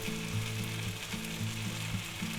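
Peppers and onions sizzle in a pan for hot Italian sausage subs, a steady close frying hiss with a few soft stirring scrapes as the vegetables are pushed aside.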